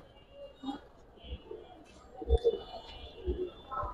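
Pigeons cooing softly up close, a few short throaty coos scattered over a few seconds against a quiet background.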